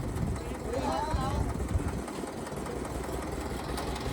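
An HMT 2511 tractor engine runs at a steady, low, rumbling idle during house slab work, somewhat distant, with people talking over it.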